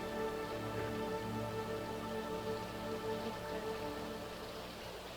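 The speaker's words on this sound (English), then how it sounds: "Oh, it's raining again. Doesn't look like it's heavy, though." Steady, light rain patters on a surface in the background, a soft continuous wash with a low hum underneath and no voices.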